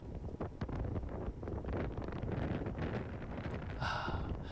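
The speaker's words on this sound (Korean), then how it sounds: "진짜 바람이 많이 붑니다" Strong wind roars and buffets the microphone continuously on a mountain ridge trail in the Yeongnam Alps, South Korea, a dense rumbling rush with gusts throughout.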